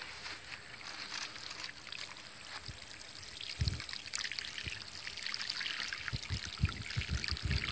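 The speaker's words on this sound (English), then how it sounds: "We'll add water and then we'll check to see." Water pours into a mailbox post hole, a continuous splashing trickle with occasional low gurgles and thumps, close by and steady throughout.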